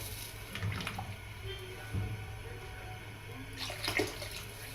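Water is poured over basmati rice in a cooking pot, a soft, trickling splash that swells and fades in a couple of short bursts, faint and close.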